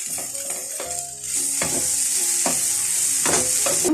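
Vegetables frying in a pan sizzle steadily while a utensil stirs them with repeated scraping clatters, close and fairly loud throughout.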